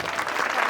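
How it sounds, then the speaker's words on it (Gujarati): Audience clapping at an alumni association gathering, a brief dense burst of applause from a crowd, steady and fairly loud. "નૂતનબેન માટે તાળીઓ વગાડો"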